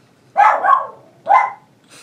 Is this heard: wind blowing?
no